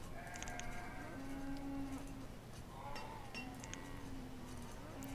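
Sheep and other farm animals in the city-building game Banished bleat and low in several drawn-out calls over a steady rural ambience, with faint clinking in the background.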